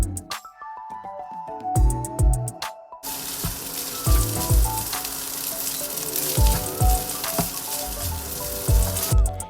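Cooked rice frying in a pan with onion and garlic for pineapple fried rice, a steady sizzle with repeated scraping and stirring knocks, a quiet start before the frying noise swells up, no speech.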